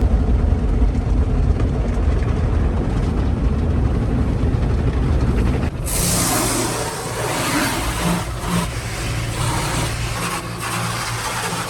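An automatic car wash runs around an Infiniti Q50 from inside the car: a steady loud mechanical rumble and spray wash, switching partway through to a harsher, hissing blast of water and air.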